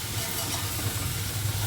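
Dal sambar with drumsticks, freshly salted, being stirred in a pot, giving a steady close hiss and bubbling simmer with soft, continuous texture and no voices.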